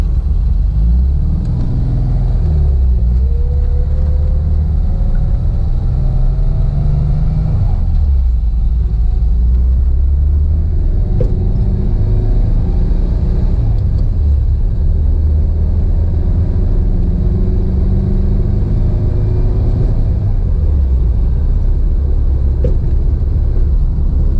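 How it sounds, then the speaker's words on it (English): Low, steady engine rumble from a car, heard from the back seat while it is being driven, with a constant drone and some shifts in pitch as it runs through the gears. "It is a little noisier back here with the motor"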